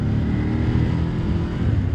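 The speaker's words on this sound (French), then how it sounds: "On va tout de suite regarder un petit peu juste ici de quoi le moteur est capable." A 2023 Ducati Monster motorcycle engine revving loudly and close, a dense continuous roar held steady for a couple of seconds with no speech.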